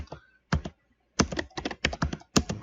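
Close computer keyboard typing comes in quick clusters of crisp clicks, a short pair followed by several rapid bursts of keystrokes separated by brief silences.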